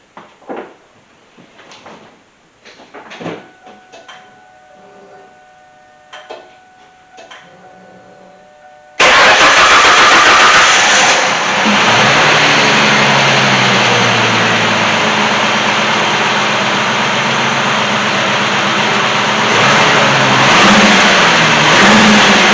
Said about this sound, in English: I'm going to try starting it